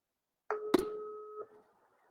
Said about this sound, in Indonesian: Saya telepon dulu.